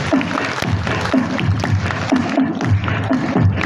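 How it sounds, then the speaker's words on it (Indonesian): A crowd of madrasah students claps together in a hall, the applause loud and steady with a regular rhythmic beat, kept up throughout. "Tepuk tangan dong."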